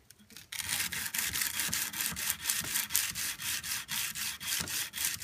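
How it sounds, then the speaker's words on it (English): Knife blade hand-sanded with oiled 110 grit sandpaper wrapped around a block, a steady series of close, rhythmic scraping strokes back and forth, with no talk. "this is still 110 grit. I'm gonna wrap it around and just go over this surface really good, nice and slow, with some more oil."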